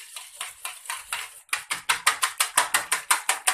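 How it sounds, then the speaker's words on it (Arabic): Eggs are beaten together in a bowl with quick, regular strokes. The rhythm pauses briefly, then comes back faster and stronger, close and clear with no voice. "نضرب بقى البيض كده مع بعضنا كده"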